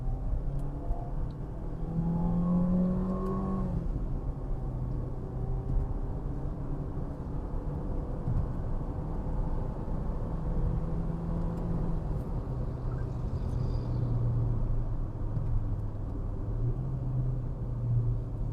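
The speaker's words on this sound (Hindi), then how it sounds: "गाड़ी को अब यहाँ पे एक पुल देते हैं इसका हम ना, एक्सेलरेशन इसकी चेक करते हैं।" A Suzuki Fronx car accelerating hard on a test drive, its engine drone rising and shifting through gears as a steady close rumble with faint road and tyre noise throughout.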